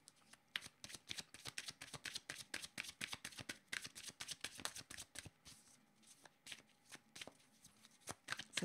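A deck of cards is shuffled and cards are drawn during a tarot-style reading. Rapid crisp riffling and slapping run close and quiet, with a few separate card snaps near the end.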